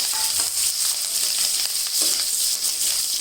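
Green chilies and ginger fry in a pan for a watermelon curry, a steady bright sizzle with a few light stirring touches, close and continuous, no talk.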